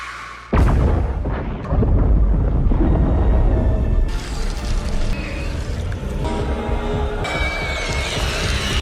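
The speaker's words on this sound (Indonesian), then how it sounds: "yang justru malah menabrak stasiun dan menyebabkan ledakan besar" A ship crashes into a space station and sets off a huge explosion: a sudden loud blast followed by a long, heavy rumble with dense roaring debris noise.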